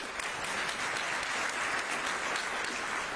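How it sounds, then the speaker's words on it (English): Steady, dense audience applause fills a debate hall between Scott Taylor and Elaine Luria, a continuous wash of many hands clapping at moderate loudness with no voices over it. "Can we give Joel a round of applause, please?"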